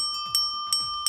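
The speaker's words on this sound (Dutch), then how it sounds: "waarom ben jij eigenlijk de hele tijd met die fietsbel aan het bellen?" A bicycle bell rings three times at a steady pace, each ring a bright metallic ding with a short ringing decay, loud and close with no talking.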